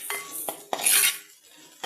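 A utensil stirs chopped onions in a metal cooking pot for a village-style dried fish curry, making a few close, sharp clinks and scrapes with a brief stirring rustle between them. No voices are heard.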